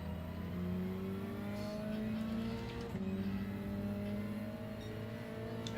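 Engine drone of a lowered Nissan Altima with a 2012 Maxima engine swapped in and cats deleted, driven in Gran Turismo 7, holding a steady loud hum with rising and falling pitch as it accelerates and shifts, no talk.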